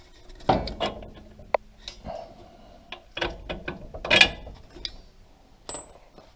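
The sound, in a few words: ratchet removing bolt from Toyota 4Runner shock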